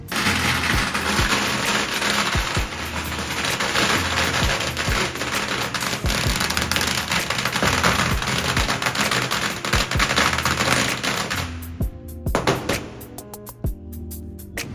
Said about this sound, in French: voilà où il faut péter tous les pétards.